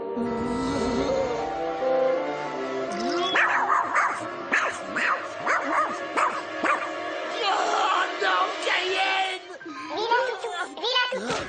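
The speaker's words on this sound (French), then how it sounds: "Tu ne dois pas aboyer, c'est compris?" A dog named Cayenne, a first-prize winner from a small northern town, barks and yips repeatedly and ends with whimpering whines, heard close and loud with a voice mixed in.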